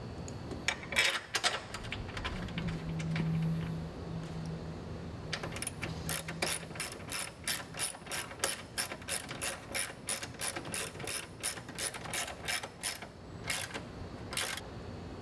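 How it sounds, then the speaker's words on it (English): Ratchet clicking steadily as a 13mm bolt is run back in to secure the PCM on a Dodge Charger, a long series of close, crisp rapid pawl ticks in bursts with brief pauses. "you want to go ahead and reinstall the 13mm bolt."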